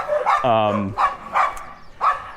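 A few sharp barks from a brindle puppy ring out close by, spaced irregularly, with a short whine-like tone among them, in León, Nicaragua.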